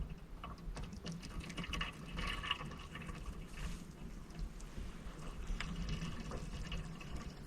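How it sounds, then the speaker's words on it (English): Water steadily gurgling and bubbling in a heated ammo box circulation system at a snowy winter camp, faint, irregular liquid burbles and ticks over a low rumble, with no voices. "the ammo box continued to steadily gurgle away for another hour"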